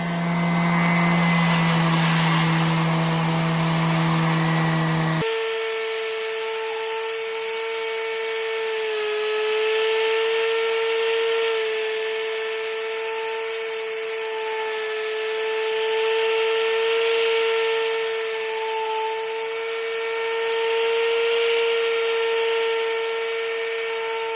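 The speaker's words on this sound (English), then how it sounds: "when I was using this disc sander" A disc sander shaping an antique-style wooden spoon gives a steady, loud motor hum with a high whine and rising and falling grinding as the wood is pressed against the disc.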